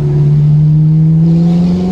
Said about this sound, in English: The exhaust is fabulous